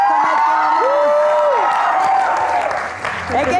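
An audience at a sports club team competition claps and cheers loudly for the winning red team, dense applause with scattered shouts and whoops continuing throughout, a voice briefly audible at the start.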